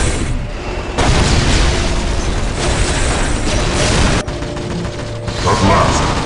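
Dense gunfire and explosions from a Warhammer 40,000: Dawn of War battle, a continuous loud clatter of shots and booms with mechanical rattling and brief cuts in the din.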